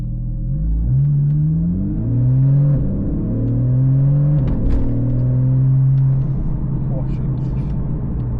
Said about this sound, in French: C'est la première fois que je conduis une Porsche 911